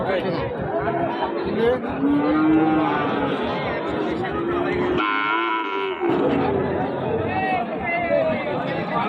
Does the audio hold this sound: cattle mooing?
yes